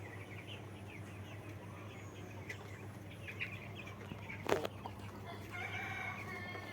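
Broiler chickens in an open pen give scattered soft clucks and short calls over a steady low hum, with one sharp nearby knock midway and a burst of higher chirping toward the end.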